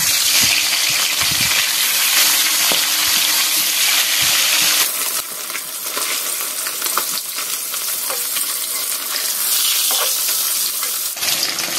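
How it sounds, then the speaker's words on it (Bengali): Koi fish fry in hot oil in a pan, a loud continuous sizzle and spatter with occasional crackles, settling slightly quieter midway. "আমার তেল গরম হয়ে গেছে। আমি মাছগুলো ভেজে নিই আগে"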